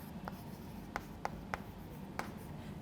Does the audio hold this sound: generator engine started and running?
no